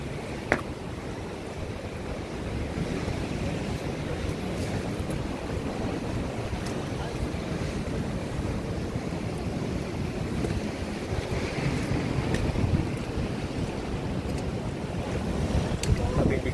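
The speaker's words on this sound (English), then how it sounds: "sea waves, the waves actually do crash up to here" Strong wind and sea waves crashing on the shore at La Perouse Beach in Sydney, a loud, steady roar of surf and gusting wind noise across the microphone throughout, with no talking.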